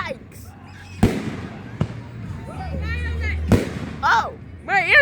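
Fireworks burst in a 2025 display with three sharp, loud bangs spread over a few seconds, while people nearby talk and exclaim between the blasts.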